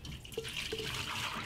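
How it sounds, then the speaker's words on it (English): Water poured from a mixing bowl into a kitchen sink, a steady splashing stream with a couple of brief drips standing out, close and continuous throughout. "Now dump that water out."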